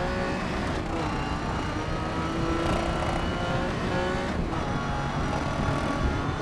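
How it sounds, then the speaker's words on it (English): A rough, strained, damaged race car engine in the video game GRID Legends drones steadily with rattling mechanical noise, loud and continuous throughout, no talking. "Our car sounds very broken."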